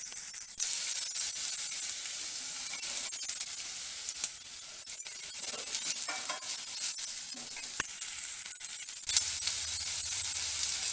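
Onions with ginger-garlic paste sauté in a pan for a homemade pasta dish, hissing and sizzling steadily, with scattered spatula scrapes and clicks, a brief dip midway and a louder burst near the end.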